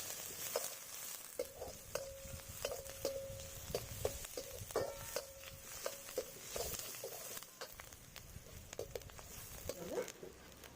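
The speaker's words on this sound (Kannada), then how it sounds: "ಚೆನ್ನಾಗಿ ಫ್ರೈ ಮಾಡೋಣ, ಬ್ರೌನ್ ಆಗೋ ತನಕ ಫ್ರೈ ಮಾಡೋಣ." Onions frying in a pan toward browning for dry chicken green masala, a soft, low-level crackle and sizzle with scattered light clicks and stirring taps throughout.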